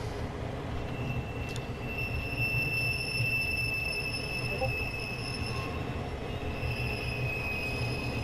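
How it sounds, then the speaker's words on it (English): An intermodal freight train in a train simulator game rumbles steadily past, with a continuous low roar and faint high-pitched wheel squeal running throughout. "Oh, that's the intermodal train."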